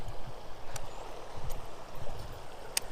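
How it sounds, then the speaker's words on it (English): Fast-moving river water of the Huron River rushes steadily and close, a continuous broadband wash with a few small splashes, no voices. "This water's moving so fast."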